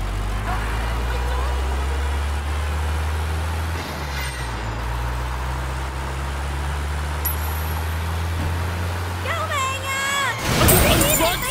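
Bus driving along with a steady low engine drone throughout, a brief hiss near the middle, and squealing brakes with a rattling burst near the end; no one speaks.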